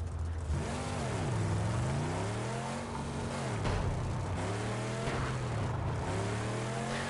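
An enemy car's engine in the Mad Max video game revs and drops repeatedly while driving, a continuous rising and falling growl with shifting pitch heard alone.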